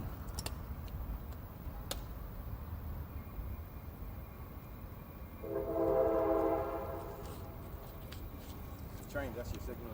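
A train passes near a group of people gathered outdoors, its horn sounding loudly for about a second mid-clip over steady rumble and ambient noise, with voices audible in the background.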